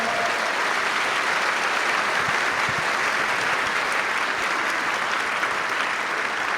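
Steady, dense applause from an audience at a Christmas pops concert, even and continuous at close range with no voices on top.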